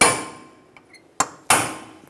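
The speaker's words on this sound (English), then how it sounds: "take a punch and a hammer," A hammer strikes a punch against seized brake rotor screws on a 2008-2012 Honda Accord, giving sharp metallic taps: one ringing hit at the start, then two more close together, each decaying quickly.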